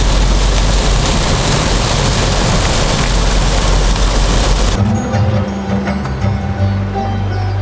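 Heavy rain pours down steadily in Pasighat as a dense, loud hiss. After about five seconds it turns quieter and more muffled, and faint low hums and tones come through.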